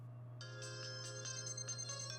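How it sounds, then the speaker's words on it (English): Phone ringtone sounding as a bright, repeating electronic melody of short pulsed tones over a low steady hum, fairly faint and alone without talk. "The phone rang."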